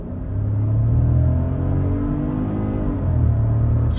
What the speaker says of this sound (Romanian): Hai să-i dăm kickdown pe normal.